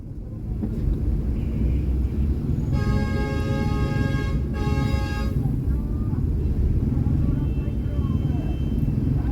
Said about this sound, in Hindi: हैवी ट्रैफिक की वजह से यहाँ पर ट्रैफिक अक्सर